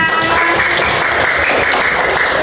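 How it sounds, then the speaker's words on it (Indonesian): A class of pupils claps together in a computing lesson, a continuous, busy wash of hands held at a constant level throughout. "Tepuk tangan untuk semuanya."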